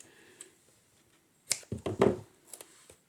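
A few crisp snips and rustles from scissors cutting through soft foam tape, clustered in a quick sequence, close and fairly quiet otherwise.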